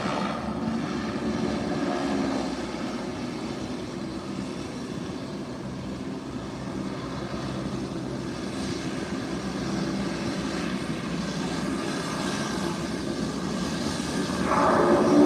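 Fixed-wing airplane taxiing toward a parking spot near runway 28, its steady engine drone and propeller hum continuous and fairly close, swelling slightly louder toward the end, with no talking.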